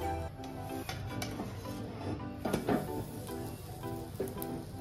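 Aloo kulcha sizzling in a non-stick pan just after being flipped, a steady close crackle and hiss with faint scattered pops and a light utensil clink, no voices.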